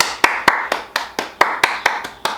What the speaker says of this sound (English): So clap it up for that.